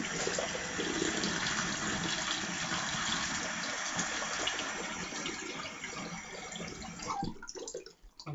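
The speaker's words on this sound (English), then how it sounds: "Let me rinse my face off." Water running steadily from a tap as a face is rinsed, a close continuous gush with splashing that breaks up and tapers into drips and hand splashes at the end.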